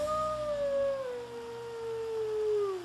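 A single wolf's howl holds a long, smooth, slowly descending note that spans the whole few seconds, clear and fairly close with little else behind it.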